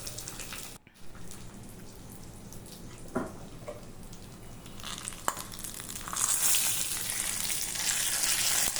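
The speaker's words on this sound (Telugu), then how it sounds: "ఇప్పుడైతే తాలింపుని పప్పులో అయితే యాడ్ చేసుకుందాం మనం" Fried tempering is tipped into cooked lentil dal made with ponnaganti greens, giving a soft steady crackle that swells into a louder, brighter hissing sizzle near the end, with a few small clicks before it.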